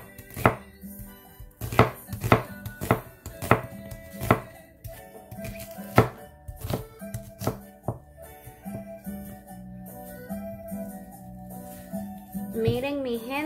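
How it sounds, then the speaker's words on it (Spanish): A knife chops onion on a board in quick, sharp, close taps, first in a brisk run and then in sparser strokes, while a voice talks over the cutting. "Entonces ahora vamos a picar la cebollita, mi gente, miren."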